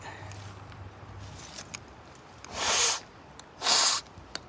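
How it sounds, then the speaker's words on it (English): Someone blows their nose twice, close and loud, each a short honking blast about a second apart, over a quiet background. "let me blow my nose real quick."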